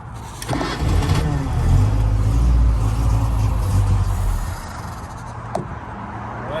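A Datsun 521 engine, run again after five years in storage, cranks and catches, then runs with a rough, loud rumbling idle that fades down near the end, heard close up.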